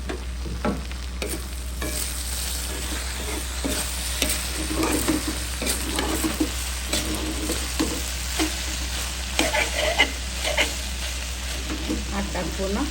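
Okra stir-fried in a pan for a simple Bengali bhaji, with steady oil sizzle and repeated scraping and stirring strokes close by, no talk over it.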